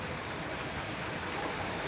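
Constant wash of rain falling, even and moderately loud, with no voices or distinct drops standing out.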